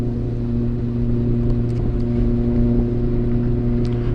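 A Phoenix S 1600 RC plane with a 5010 750kv motor, stock propeller and 3S pack runs at throttle with a steady, loud electric motor drone. It holds an even pitch throughout, with faint higher whines near the end.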